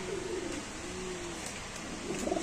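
Pigeons at a pigeon market coo softly in a few drawn-out, wavering calls against quiet background noise, faint but clear.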